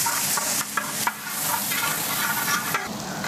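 Chopped onions sauté in a pan for a Palakkad-style winter melon chicken curry, a steady close sizzle with scraping stir strokes and a few sharper clinks, no voices.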